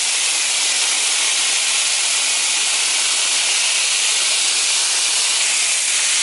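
A strong water spray rinses coil cleaner off a Ruud air conditioner coil, a loud, steady broadband hiss that runs unbroken and close throughout.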